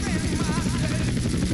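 Helicopter in the GTA San Andreas video game, during a skycrane winch mission: a loud, steady rotor drone with a dense low chopping pulse throughout.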